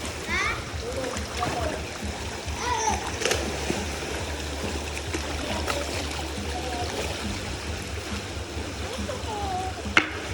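Murky river water used as a laundry spot, flowing and splashing steadily outdoors, with a few sharper splashes and a voice faintly in the background.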